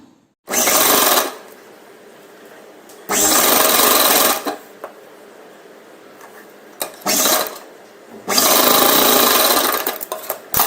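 A sewing machine stitches a lehenga top at the shoulders in three loud bursts of rapid mechanical whirring, separated by quieter pauses filled with faint handling noises, close up and with no talk over it.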